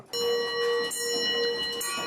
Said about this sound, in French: celle-là, qui sonne l'heure sur une cloche